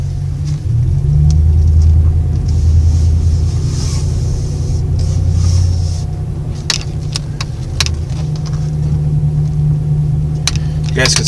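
A car rolls along a road with a loud, steady engine and tyre rumble close inside the cabin, some light rattles and a few sharp clicks over the top.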